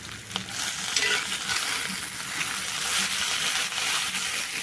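Small fish fry in a pan with a steady, hissing sizzle of hot oil, close and continuous, with occasional stirring and no voices.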